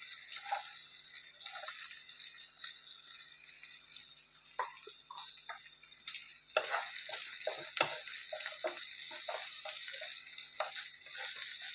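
Potatoes go into a pan of frying spices for a prawn and poppy-seed curry. A steady soft sizzle turns into a louder, fuller hiss partway through, with occasional stirring scrapes and rattles.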